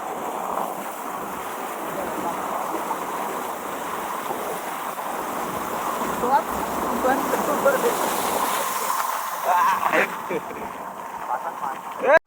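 Continuous rushing of monsoon rain and floodwater at rice-planting time, with wind buffeting the microphone, loud and steady, with a few faint voices underneath.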